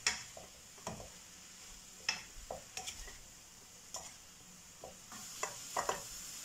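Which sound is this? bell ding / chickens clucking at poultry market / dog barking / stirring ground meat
stirring ground meat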